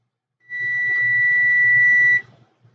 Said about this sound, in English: That was a timer for a chicken.